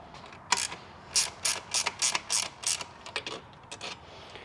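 Ratchet wrench tightening bolts with lock washers on a 48V CATL battery build, a series of about a dozen quick clicking bursts in uneven rhythm, close and fairly quiet, with no talk.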